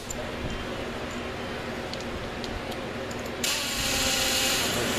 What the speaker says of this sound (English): Now, once again, try using my air ratchet